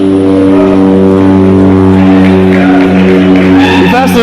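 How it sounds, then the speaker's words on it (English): Loud, continuous jet aircraft engine roar holding a steady droning pitch, dominating the whole stretch with no voices. "Faster than that jet over there."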